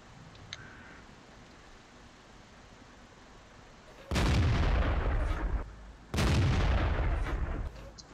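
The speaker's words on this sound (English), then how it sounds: "So we finally get some shots on these guys." Two loud, booming tank cannon shots in World of Tanks, fired from a PZ V Panther, each a sudden heavy blast with a lingering rumble, a couple of seconds apart after a quiet stretch.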